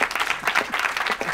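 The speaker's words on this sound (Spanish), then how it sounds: "Un aplauso para Keke, el otro hombre de Salamanca." A studio audience at a Spanish comedy show claps steadily and loudly in a brief, continuous burst of applause with no speech over it.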